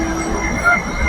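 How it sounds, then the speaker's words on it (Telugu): An SMBB Bengaluru–Howrah express train rumbles steadily through an old station, hauled by a WAP-7 electric locomotive, with continuous close wheel and carriage noise and brief faint squeals over the rolling sound. "సో ఒక ట్రైన్ వెళ్ళింది."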